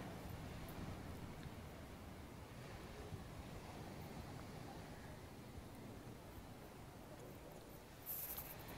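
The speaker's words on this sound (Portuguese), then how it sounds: "É muito bom ouvir assim o barulho do mar de longe já." Ocean surf at Praia do Éden beach in Guarujá, São Paulo, rolls in from a distance as a steady, even wash of broadband noise, with light wind on the microphone and no talking.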